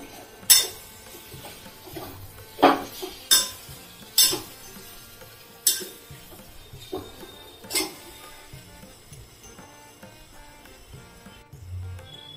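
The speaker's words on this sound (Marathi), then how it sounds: "याच्यामध्ये आपण मटर घालतोय. 1 वाटी मटर आहे माझ्याकडे. हे चांगलं मिक्स करून घ्यायचंय सगळं." A spoon scrapes and clinks in a bowl as peas are mixed into a bread pakora batter, with several sharp knocks against the rim spaced irregularly over quiet, close stirring.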